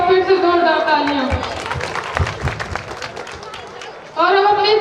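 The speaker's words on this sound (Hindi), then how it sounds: "शुजात के लिए एक बार फिर से जोरदार तालियां।" An audience at a school annual function applauds a student's recited couplet, a dense burst of clapping running for several seconds between stretches of an announcer's amplified voice speaking over it.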